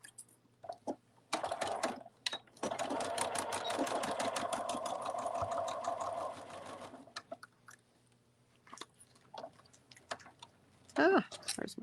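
A sewing machine runs a seam on a fabric cuddle bunny, a steady rapid stitching burst lasting several seconds, with quieter clicks and handling noises around it.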